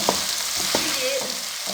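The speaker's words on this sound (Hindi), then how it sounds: "जैसे जैसे हम लो फ्लेम पे इसको फ्राई करेंगे उसी तरीके से ये इसकी लेस मुकम्मल तौर पे ख़त्म हो जाएगी।" Sliced okra frying in oil on a low flame while being stirred, giving a steady soft sizzle broken by a few light spatula scrapes, close and alone with no talking.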